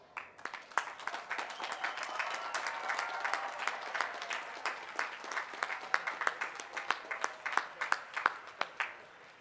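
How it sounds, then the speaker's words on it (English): Graduates at a 2012 College of Environmental Design commencement applaud their families, a sustained round of dense clapping from a large crowd with sharp individual claps standing out, building slightly louder toward the end. "please join me in giving those people a well-deserved round of applause"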